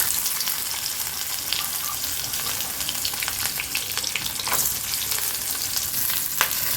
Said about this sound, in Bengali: দেখি এবার নারকোলটা ভেজে